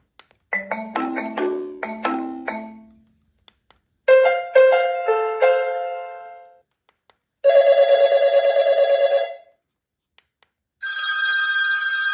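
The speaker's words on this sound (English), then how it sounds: "It's got 5 built-in ringtones. We can cycle through these now." A Renny loud cell phone ringer, a 117 dB amplifier and flasher, cycles through its built-in ringtones: a falling chime pattern, a second melodic ring, then a buzzy trill and a steady electronic tone, each separated by brief silence.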